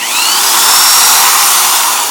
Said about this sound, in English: then you get on with your drill, and then you just buff it in